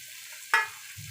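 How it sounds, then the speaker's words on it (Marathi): Chicken liver drops into a pan of hot masala, giving one sudden sizzling hiss that flares loudly and fades within a fraction of a second over a low background hum. "आता आपण कलेजी घालणार आहोत"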